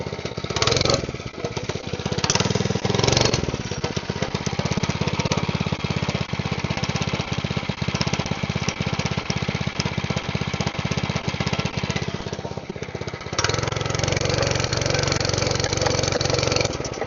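A motorcycle engine with a carburetor leaking gas runs loud and steady in a garage with a rough, throbbing idle. It dips briefly near the end before resuming.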